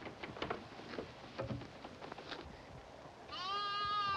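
Scattered faint rustles and taps give way to a single clear, wavering bleat at the end, close and fairly loud.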